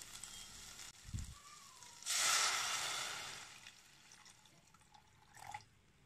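Water measured out and poured into a pot of rice with pulses, a brief broad splashing pour lasting about a second amid quieter kitchen clatter and faint drips, no talking.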